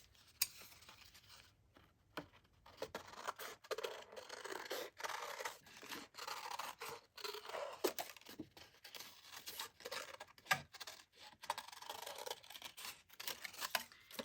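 Scissors cutting through card, a run of quiet, close snips and crisp rasping slices with irregular gaps between strokes, fairly faint and with no voices.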